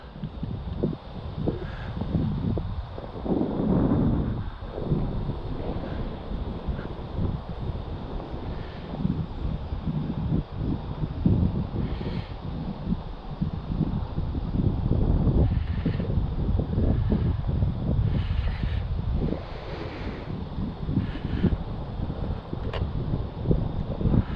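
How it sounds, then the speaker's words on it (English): Steady wind buffeting outdoors at an RC model airplane flying field, a continuous low rumble of gusts against the microphone with faint rustling, no talking. "gee, it's windy."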